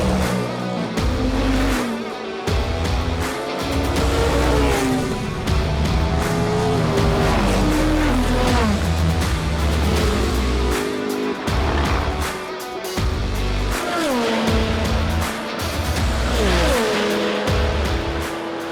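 Porsche 963 race car in the Le Mans Ultimate racing game, its engine roaring loudly and continuously with repeated rev climbs and gear-shift dips, with occasional tire squeal.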